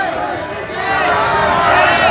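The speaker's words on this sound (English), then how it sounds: "Listen to the crowd for Mark Miller here." A loud crowd reacting to Mark Miller: a wash of many voices shouting and cheering together, swelling louder in the second half.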